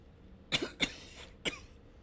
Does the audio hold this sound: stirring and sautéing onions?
no